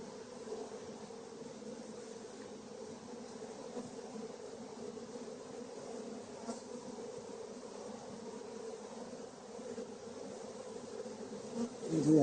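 Honey bees buzz in a steady, dense drone while a hive is opened for inspection, the hum holding close and even throughout with no talking.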